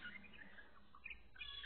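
Pet birds chirp indoors at home in faint, quick high twitters, a few short calls scattered at low volume.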